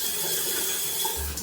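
A square black wall-mounted rainfall shower head runs at high water pressure, giving a steady, loud hiss of spraying water that continues throughout, with a low thump near the end.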